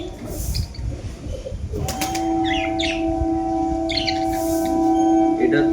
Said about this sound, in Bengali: এটা হচ্ছে গিয়ে ক্রস বিটের পায়রা আছে, দুটো আলাদা আলাদা বিট দিয়ে ক্রস বিটের পায়রা আছে